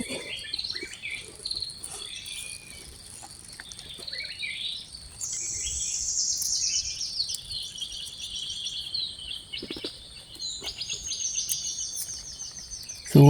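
Bright, chirping bird calls ring out in short bursts over a steady, shrill chorus of crickets and insects outdoors.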